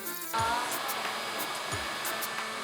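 Cordless stick vacuum cleaners, an LG A9, a Dyson V10 and a Samsung Jet, run at full power. A loud, steady motor whine starts abruptly and holds without a break, with no talking.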